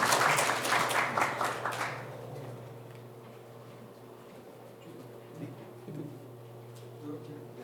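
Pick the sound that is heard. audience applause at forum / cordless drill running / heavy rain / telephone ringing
audience applause at forum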